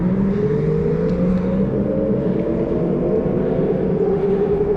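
Car engine droning steadily nearby with a rising whirring tone, heard outdoors on a commute route, constant and fairly loud throughout with no talk.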